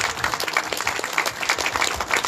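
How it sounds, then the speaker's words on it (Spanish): A crowd at a public works event breaks into dense, sustained applause after a speech, many hands clapping at once in a close, steady roar with no break. "Fuerte las palmas una vez más, por favor."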